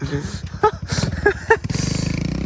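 Kawasaki KLX110 dirt bike engine putters and revs close by on dirt jumps, a choppy pulsing drone that settles into a steady buzzing idle, with a voice talking over it.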